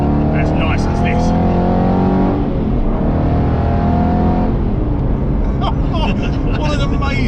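An Aston Martin Vantage GT8 engine builds revs in a rising crescendo, a loud, continuous roar with shifting harmonic sweeps, heard from onboard during a road drive with people talking over it.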